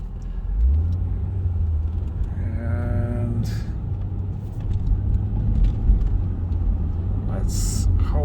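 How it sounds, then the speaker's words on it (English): A Jaguar XKR with a supercharged engine drives along a road, its steady engine rumble and tyre noise filling the cabin continuously with a brief rising rev tone midway and voices speaking over it. "Listen to how beautiful this car is."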